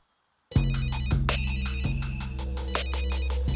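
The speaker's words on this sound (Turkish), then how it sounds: "Telefonu çalıyor baksana kızım." A telephone starts ringing abruptly and keeps going with a repeating electronic ring pattern, loud and close, with no voices.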